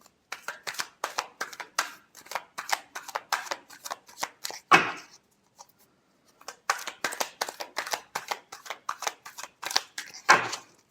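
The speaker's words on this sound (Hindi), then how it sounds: "Last shuffle." Tarot cards shuffled by hand during a Pisces 2024 reading, a rapid run of crisp riffling bursts with a brief pause midway, two louder bridge-like riffs standing out, close and clear with no talk.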